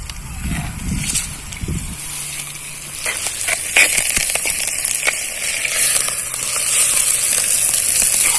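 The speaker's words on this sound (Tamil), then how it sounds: "இப்போ நம்ம அந்த மசாலாவை இதில் சேர்த்துக்கலாம்." Ground masala goes into hot oil in a clay pot for a Tamil brinjal gravy. Low thumps and clatter open the clip, then a steady broadband sizzle builds and holds, close and fairly loud.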